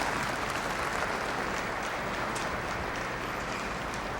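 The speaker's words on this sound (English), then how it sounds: "Murray Warren getting a standing ovation from the crowd here at the Keystone Center" A curling crowd at the Keystone Center rises in a standing ovation for Murray Warren's team from Medora, sustained dense applause filling the arena at a steady level throughout.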